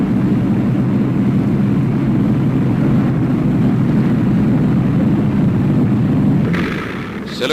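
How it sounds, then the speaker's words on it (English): Several Lancaster bomber piston engines roar at full power during takeoff, a loud, dense and steady low drone that dips slightly near the end. "As the huge planes wheel about for the takeoff"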